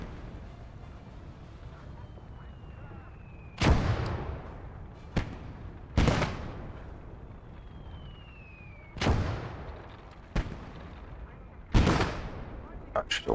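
Gunfire in the World War II game Gates of Hell: Ostfront, with about seven loud, sharp shots spread irregularly over a steady low battle rumble, a couple of faint whistling sweeps between them.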